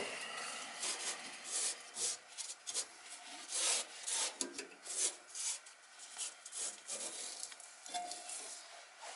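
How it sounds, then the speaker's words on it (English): Worn sandpaper rubbed over a part inside an 80-plus gas-fired furnace during servicing: irregular gritty scraping strokes in quick bursts, close and fairly soft, with no talking. "I've got some worn out sandpaper I like to use."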